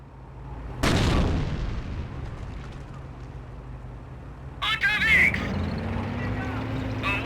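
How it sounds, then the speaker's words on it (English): Mortar rounds from a half-track fire in Company of Heroes: a sharp, loud launch boom followed by a rumbling battlefield backdrop, then a second burst of noise with a radio voice speaking over it. "Mortar ready! Target marked! Rounds inbound!"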